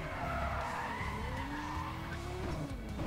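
Tires on a Toyota Supra skid and squeal in Need for Speed World, a sustained screech that swells and bends in pitch over a continuous engine roar, with no talking.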